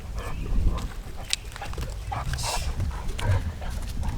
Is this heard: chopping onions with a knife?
no